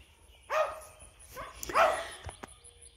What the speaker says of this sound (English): Duke is over there barking at the chickens again.